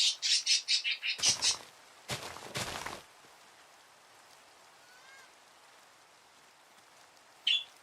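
Birds from the Minecraft video game squawk in a rapid run of loud, high chirps, followed by a few sharp bursts and a quiet stretch, with one final brief squawk near the end.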